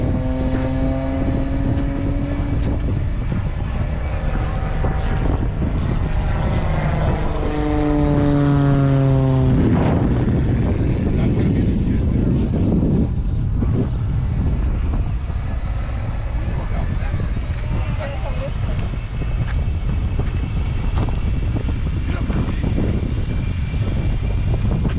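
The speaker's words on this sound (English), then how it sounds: "Looks like we may have a little race between a plane and a jet truck." At the Stuart airshow, a stunt propeller plane races the Hot Streak jet truck. A loud, steady engine roar with a sweeping propeller drone fills the whole stretch, rising and shifting in pitch as the plane passes close by.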